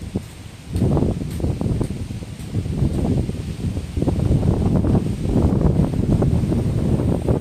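Gusty wind at a beach in Calatagan, Batangas buffets the microphone in a continuous roar, with rustling bursts rising and falling and no voices.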